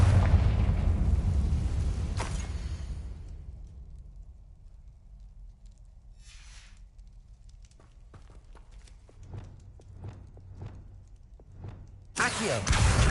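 A Confringo blasting curse goes off in Hogwarts Legacy as a sudden loud, broad blast near the end, after quieter stretches with faint footsteps and magical effects.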